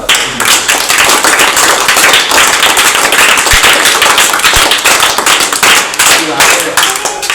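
Children at a school celebration event clap together in loud, sustained applause, dense and close throughout.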